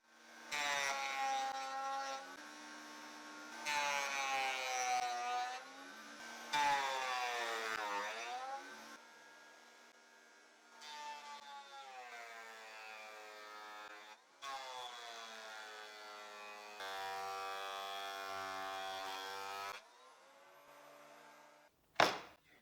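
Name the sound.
thickness planer planing wood boards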